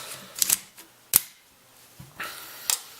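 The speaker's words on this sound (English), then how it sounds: "let me lock the bolt to the rear." Sharp metallic clicks and clacks from a Sig MCX rifle being handled on a tabletop as its bolt is locked to the rear, four or five crisp close-up snaps spaced over a few seconds with quiet between them.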